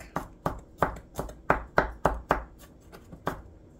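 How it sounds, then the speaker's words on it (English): A knife mincing garlic finely on a cutting board, about a dozen crisp, evenly spaced chops close up, with no talking. "We're gonna give it a nice little chop here. We're gonna mince it. Nice finely chopped garlic."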